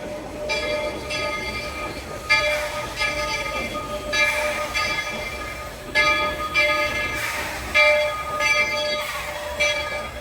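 The Walt Disney World Railroad steam train rolls past at the Magic Kingdom with a chuffing, rumbling rhythm, while repeated whistle or horn blasts come through loud and near in bursts.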